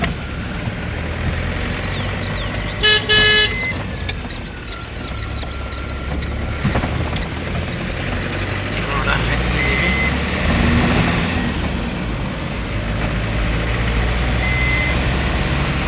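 A diesel truck pulls away and drives on a highway from Kolhapur toward Goa, its steady low engine drone and road rumble continuous and close, with brief beeps and someone speaking at times over it.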